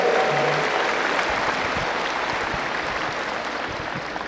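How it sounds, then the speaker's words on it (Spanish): Congregation at a Catholic service gives a loud, sustained round of applause for the Argentinians, a dense wash of clapping that gradually tapers, with little talk. "Vamos a dar un fuerte aplauso a los argentinos"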